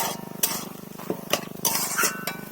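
A spoon scrapes and clinks through a pan of small fish and winter vegetable curry with chopped coriander, giving several sharp, close strokes over a low background sizzle, with no voices.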